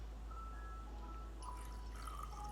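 Stevia drops trickling into a cup of coffee in a home kitchen, a faint, thin liquid dribble with small drips over a steady low hum, heard alone without talk.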